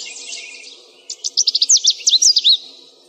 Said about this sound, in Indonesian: Suara kicauan burung